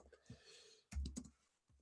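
Clicky keystrokes from typing on a computer keyboard come in a few quick bursts, faint and close, with short gaps between them and no talk.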